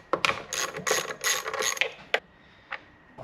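A ratchet working bolts loose on the manual pull start of a 25hp Yamaha outboard: several bursts of rapid clicking pawl ticks, close, then a couple of isolated metallic clicks.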